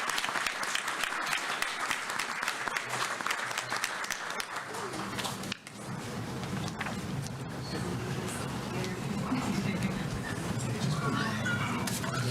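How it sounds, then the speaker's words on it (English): A school board meeting audience gives a round of applause for high-achieving students, steady dense clapping throughout with a brief dip in the middle, fairly loud and sustained. "Let's give them another round of applause."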